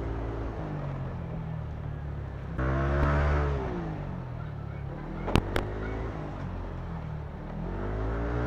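A Yamaha Aerox 155 scooter with a modified CVT torque drive rides through traffic, its engine droning steadily and swelling briefly under acceleration, with a couple of sharp horn-like blips from nearby vehicles.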